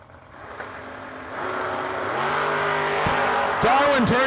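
A 1988 Ford Mustang and a Camaro launch at a drag racing meet, engines building from a low rumble into a loud, rising roar with sweeping rev tones near the end, while a voice talks underneath.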